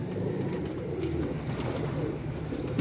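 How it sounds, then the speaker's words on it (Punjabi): Pigeons cooing on a rooftop loft, low soft coos repeating steadily over a constant background hum, with faint chirps above, no voices. "ਬਹੁਤ ਹੀ ਆਲਾ ਕਬੂਤਰ ਬਣੇ ਨੇ।"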